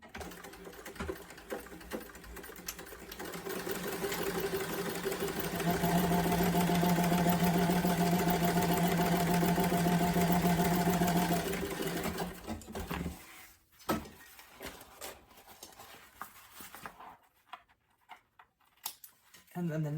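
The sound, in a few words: sewing machine sewing across the top of the bag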